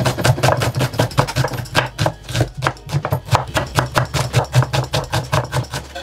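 Onion chopped into small pieces with a knife on a board, a fast steady run of close, crisp thuds that keeps up through the whole stretch with only a short pause.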